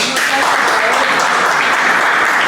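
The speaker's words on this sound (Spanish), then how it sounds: "Otro aplauso." Theatre audience at a literary encounter with an actress breaks into loud, dense applause, many hands clapping steadily and close for the whole stretch without pause.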